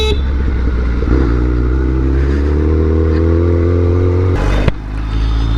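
A motorcycle engine runs steadily at idle close by, a loud low chugging drone with a brief rev and clatter near the end.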